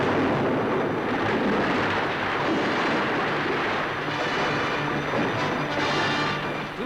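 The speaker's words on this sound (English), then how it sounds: "A torpedo is released." A torpedo fired from a submarine at a Japanese merchant ship, heard as a steady, loud, roaring rumble of engine and water noise that stays dense and unbroken throughout, with no voices.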